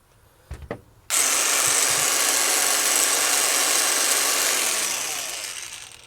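A Parkside 20V cordless sheet metal shears motor starts after a couple of clicks and runs loud and steady at full speed with no speed control, then slowly winds down.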